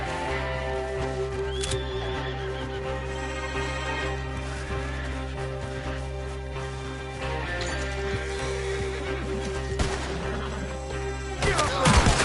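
Horses neigh and whinny with hooves clopping amid a busy battle scene, with occasional sharp bangs and a steady tonal backdrop running through.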